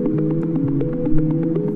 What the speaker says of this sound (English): it's a synth sequencer and arpeggiator that can sound like this